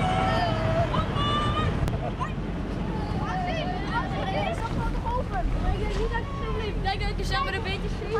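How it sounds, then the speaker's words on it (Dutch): Strong, storm-level wind roars in a steady, loud broadband rush outdoors, with a constant babble of voices mixed in and people talking throughout. "En vinden jullie het ook een beetje spannend met zoveel harde wind?"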